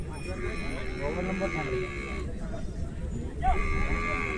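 Bulls low amid a busy crowd murmur and chatter at a cattle market in Chikhli, with a long drawn-out moo rising near the end over the background noise.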